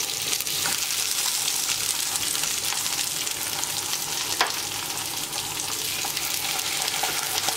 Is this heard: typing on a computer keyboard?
no